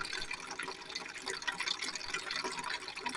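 Water from an old hand pump turned into a homemade decorative fountain pours and splashes steadily and close by, a continuous bright trickling and spattering with no talk.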